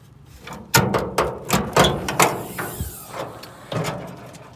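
A car hood is unlatched and lifted on a third-generation vehicle, giving a series of close clicks, clunks and mechanical rattles spread over a few seconds.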